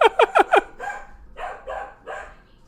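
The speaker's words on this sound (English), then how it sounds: "Enjoying the dogs" Dogs bark nearby: four quick sharp barks in a row, then three longer, softer woofs after short pauses.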